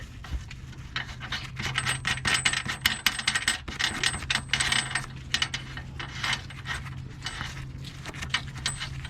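Metal clinks, rattles and a ratchet clicking as a nut is threaded and tightened back onto the control arm of a 2002 Infiniti I35, irregular close-up tool and hardware sounds over a faint steady hum.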